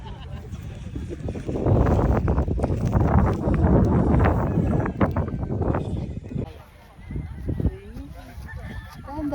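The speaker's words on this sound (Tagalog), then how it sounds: "Lakas ng hangin." Heavy wind on a highland hiking trail buffets the microphone in loud low rumbling gusts, easing briefly before returning, with voices faintly mixed in.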